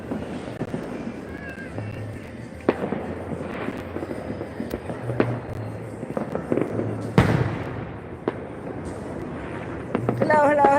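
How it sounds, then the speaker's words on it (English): Fireworks being lit and bursting outdoors during the holidays, a string of sharp cracks and pops scattered at irregular intervals over a noisy background, with a dense crackling flurry building near the end. "Okay, so I'm lighting fireworks."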